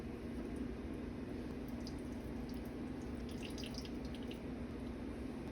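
Faint, irregular drips of whey falling from mozzarella cheese curds into a container over a steady low hum.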